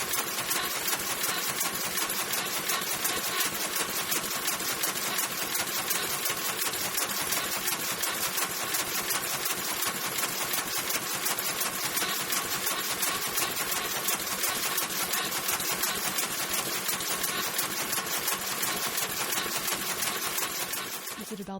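A sewing machine stitches continuously for over twenty seconds, a dense, steady, loud mechanical whir with a fast even needle rhythm that stops abruptly at the end.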